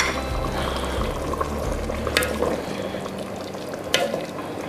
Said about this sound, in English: Everything's bubbling very nicely.